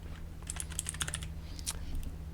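Keys clack on a computer keyboard in a short, quick burst of typing, close and quiet over a low electrical hum.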